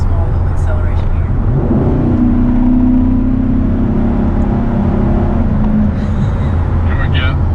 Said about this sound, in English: we'll try a small little acceleration here